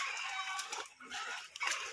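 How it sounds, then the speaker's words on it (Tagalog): Chickens cluck in an outdoor yard during household laundry, a busy, fairly faint scatter of short calls with no clear crowing, continuing through the whole moment. "Dahil palang manok dito."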